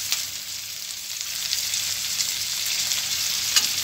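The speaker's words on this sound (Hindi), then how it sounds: "इसको मैं 1 मिनट के लिए फुल फ्लेम पे सॉटे कर लूँगी" Sliced capsicum and carrot sauté over a full flame in a pan with onions, giving a steady, close hiss of frying with light stirring and no talk.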